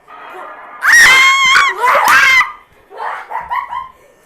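A person lets out a loud, high-pitched scream of fright while playing Five Nights at Freddy's, two long shrieking bursts close to the mic, followed by quieter excited vocal sounds.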